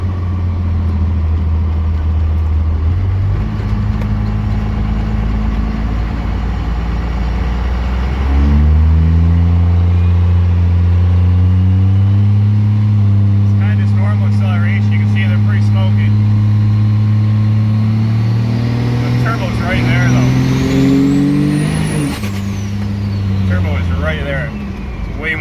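Cummins diesel truck engine fitted with big 5x.022 injector nozzles, a loud close low rumble that climbs in pitch through several shifts under acceleration, with a whistle rising near the end.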